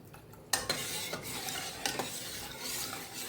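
A spoon stirs full-fat milk with cornflour and cocoa powder in a pot, producing repeated scraping swirls with soft clinks against the sides at a steady pace, close up and with no talking.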